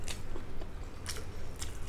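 Crunchy chewing in short bursts of crisp, crackling bites, close to the ear, with a low background rumble throughout.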